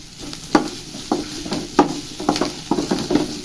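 Turmeric and curry leaves sizzle in hot oil in a pan for a chicken sambar masala, a steady close frying hiss broken by regular stirring scrapes.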